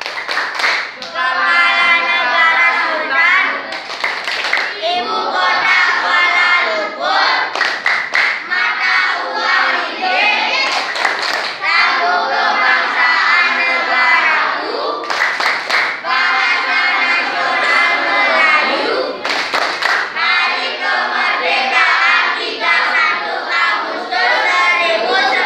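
Children clap in rhythm to a Malaysian clapping chant, sharp group claps punctuating loud, continuous chanting voices at close range.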